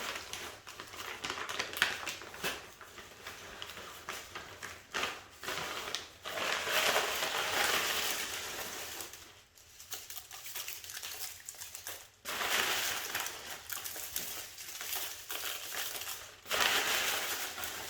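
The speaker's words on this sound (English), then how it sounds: "Next, we're going to put our leaf litter down." Dry live oak leaf litter is crunched and crinkled as it is spread by hand into a dart frog vivarium, close, fairly quiet crackling and rustling in irregular bursts with brief pauses, and no talking.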